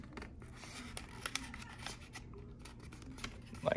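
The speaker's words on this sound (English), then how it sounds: "we're going to open up this flap so that it's a petal fold." Paper crinkles and rustles in close, quiet bursts as an origami crane is shaped into a petal fold, with small crisp creasing taps throughout.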